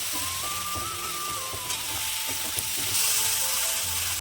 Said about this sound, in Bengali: সমস্ত মশলা দিয়ে এবারে অনেকক্ষণ আমাকে কষাতে হবে তেল ছাড়া পর্যন্ত।